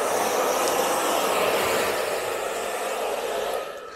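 A heat gun blows steadily while warming a decal on a motorcycle, a loud continuous airy hiss that holds level before easing off near the end, with no talking.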